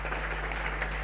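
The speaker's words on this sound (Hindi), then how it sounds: "जोरदार तालियां रघुवीर जी के लिए।" A seminar audience applauds for Raghuvir, a brief, dense burst of many hands clapping steadily over a low constant hum.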